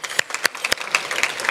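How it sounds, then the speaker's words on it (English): Luncheon audience at an international agricultural symposium claps in appreciation of supporting soy organizations; scattered but lively applause with a few sharp, distinct claps standing out near the front. "Let's have a round of applause."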